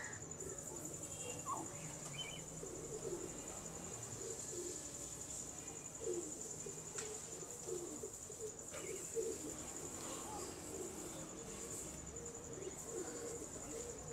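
Teddy pigeons coo softly in low repeated murmurs amid a faint background of insect chirring, the calls recurring irregularly at a moderate distance throughout.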